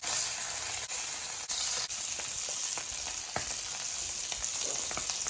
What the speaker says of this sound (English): We're going to just flip our salmon over.